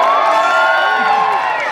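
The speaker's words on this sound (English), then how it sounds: "cheer if you think you should get her both" A crowd cheers and whoops loudly together, a dense burst of overlapping shouting voices that stays strong throughout and fades slightly at the end.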